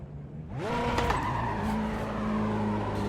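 Race car in the iRacing sim, a Porsche or Corvette on an American track, takes a hit before the race begins and skids, its engine surging into a loud, sustained roar with tire scrub.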